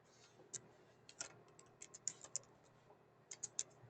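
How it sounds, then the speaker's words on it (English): Light, quiet typing on a computer keyboard, with sparse clicky keystrokes in small irregular bursts against a near-silent background. "we'll just type it in"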